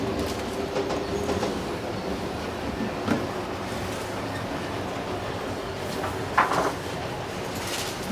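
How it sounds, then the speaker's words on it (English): A small train rumbles steadily along its track with faint clicking, and a brief clatter breaks through partway in. "One of the things we do in our train display is we have a lot of people."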